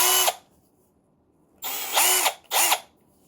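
Milwaukee M12 Fuel right angle impact wrench running in short trigger bursts: one brief whir, a pause, then a longer run that ramps up in speed and a final short burst, close and loud, no talking.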